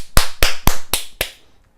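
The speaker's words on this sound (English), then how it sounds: "Clap it up." Five sharp, evenly spaced claps from a single person, close and loud, each a crisp isolated crack with brief silence between, fading out after the last.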